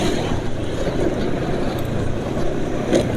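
A diesel engine runs steadily after an oil change with Seiken diesel SAE 40 oil, giving a continuous low rumble that stays loud and even throughout, with no talk over it.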